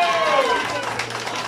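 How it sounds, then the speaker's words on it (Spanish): Audience applause for a girl at her fifteenth birthday party with a mariachi band, a brief burst of clapping heard together with a voice. "Por favor, fuerte el aplauso para ella"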